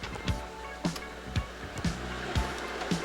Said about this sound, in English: I heard the idle speed change. That's the FICD at work.